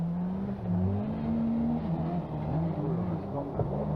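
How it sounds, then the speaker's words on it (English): A 1998 Vauxhall Astra rally kit car on its debut at the Rally of Wales, its engine droning and bogging down, the pitch sagging and wavering unevenly under steady cabin roar. "You can hear that engine bogging down"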